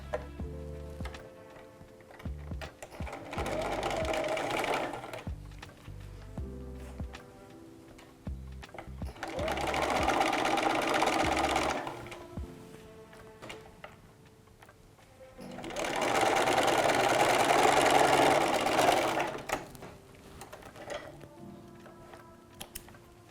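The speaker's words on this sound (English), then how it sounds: "we're going to do a 1mm top stitch along that edge" A sewing machine runs a 1mm top stitch along a fabric binding edge, whirring in three separate bursts of several seconds each with quiet pauses between them.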